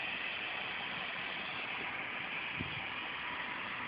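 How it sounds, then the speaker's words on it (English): A steady, broadband electrical hiss and hum from a computer power supply runs without pause, with a faint brief buzz partway through; no voices. "That is a noise my power supply makes"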